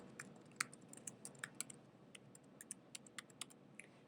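A password is typed on a computer keyboard as quiet, irregular clicking keystrokes in a hushed room, some taps a little sharper than others.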